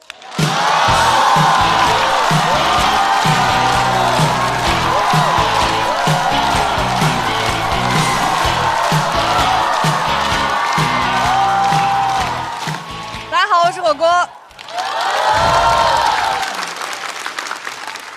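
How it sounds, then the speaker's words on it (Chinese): A stand-up comedy audience bursts into loud, sustained applause and cheering as a comedian takes the stage, then the clapping fades and someone briefly speaks before the crowd claps again. "掌声欢迎火锅"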